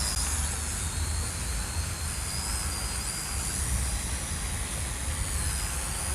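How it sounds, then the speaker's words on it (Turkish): An Aden E58 Pro drone lifts off and hovers, a steady high-pitched propeller whine with a constant low hum underneath, even and unbroken at moderate distance with no talking. "Drone'umuzu kaldırıyorum."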